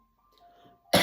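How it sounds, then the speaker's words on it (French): A single short, loud cough bursts out at the very end after a near-silent moment with faint background tones. "j'ai pas toussé comme ça sur les autres guidances"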